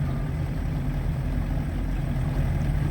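Repaired two-stroke outboard boat motor idling on a lake, a steady low, even engine drone that stays constant and fairly close with no talking over it.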